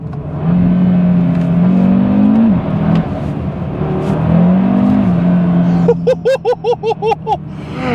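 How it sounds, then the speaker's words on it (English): A loud Cupra Formentor VZ5 engine drones and revs up and down, then ends in a rapid string of sharp, rhythmic blips and pops. "Oh my god, that engine sound is just delicious. Listen to that."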